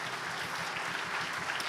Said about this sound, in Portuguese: você vai dar ao Senhor a sua melhor salva de palmas